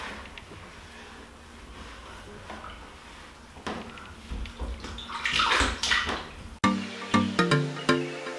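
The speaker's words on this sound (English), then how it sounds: "I'm just going to tip it over into my bucket" Water pours and splashes as clay wash is rinsed out of hair into a bucket, a steady wash of sound that swells louder midway, then gives way to sharper, closer sloshing and dripping at the end.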